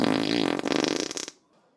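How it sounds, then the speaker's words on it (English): A man lets out a loud, crunchy fart, a raspy buzzing blast lasting over a second before cutting off into near silence. "a loud, crunchy fart unfurls onto the world from the big man's belt."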